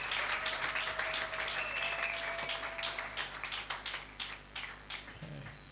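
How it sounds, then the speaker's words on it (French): A church congregation applauds, a dense sustained burst of many hands clapping that slowly thins and fades toward the end. "Est-ce qu'on peut acclamer le Seigneur pour"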